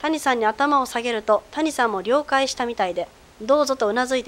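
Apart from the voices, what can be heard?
None of the usual background noises is heard.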